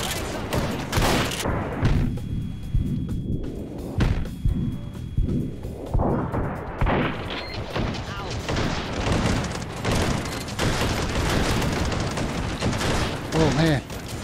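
Rapid, booming gunfire fills the VR shooter game Hot Dogs, Horseshoes & Hand Grenades, with loud overlapping shots and bursts almost throughout. A voice talks over the chaos.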